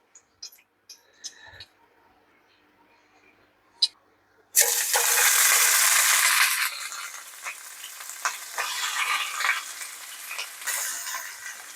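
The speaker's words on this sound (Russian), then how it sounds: "когда масло нагреется, отправим лучок" A few quiet clicks and knocks, then a sudden loud sizzle as onion hits hot oil, continuing as steady frying with some crackling and stirring.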